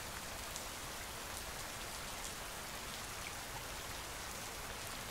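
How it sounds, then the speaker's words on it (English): Steady, dense rain pours down without a break, a close, even hiss of countless drops striking a surface throughout, with no voices present. "letting the rain wash over you"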